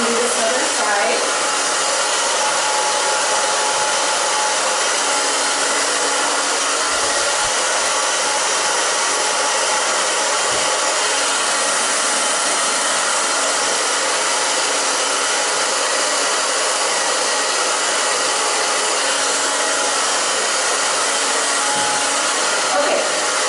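Hair dryer roaring loud and steady at close range while hair is blow-dried with a round brush after a short A-line haircut, continuous airflow with no pauses.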